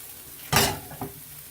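Homemade hashbrowns in a hot skillet give a short burst of sizzling as they are moved, then a smaller second hiss, close by with no talking.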